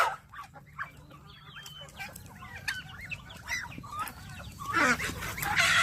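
Roosters scuffle and cluck in a busy run of short calls at middle distance, with a louder burst of noise near the end, on a backyard farm with turkeys and ducks.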